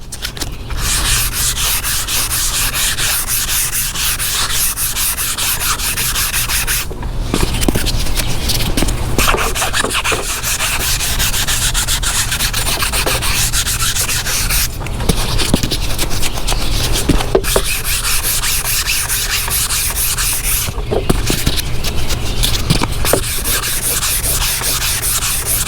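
Hand block sanding works over a fiberglass bumper lip dusted with dry guide coat on a 1979 Chevy Malibu, long loud abrasive strokes rasping back and forth in a steady rhythm with a few short pauses, close and without talk.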